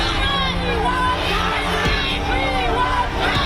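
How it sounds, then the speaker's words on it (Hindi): A dense crowd shouts and screams continuously at a violent street scene with burning vehicles, a loud, sustained roar of many voices with no pauses. "चीखते और भागते लोग।"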